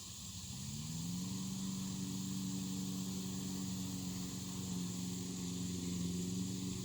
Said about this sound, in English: Guy started mowing the yard next door.